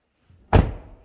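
The door of a 2005 Chevrolet Silverado pickup truck shuts once with a single solid, close thunk that fades quickly into quiet.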